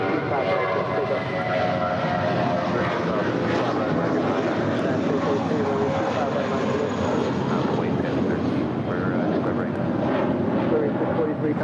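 Jet airliner roaring steadily on the runway at LAX, a loud continuous engine rumble and whine under faint radio chatter, constant in level throughout.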